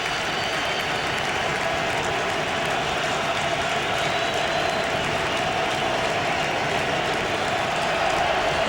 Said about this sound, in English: Crowd on its feet, 3rd and 10, cheering on this Eagles defense, which has been outstanding.